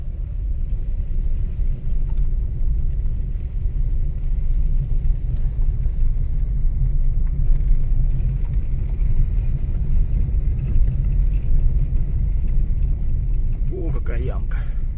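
A car driving along a road on the way to go fishing heard from inside, a steady low engine and road rumble throughout, with a person talking over it.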